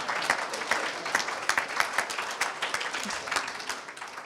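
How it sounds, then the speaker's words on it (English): An audience at a Liberal Judaism Biennial gathering breaks into sustained applause, a dense, steady wash of many hands clapping together at moderate loudness with no talking over it. "So give yourself a round of applause."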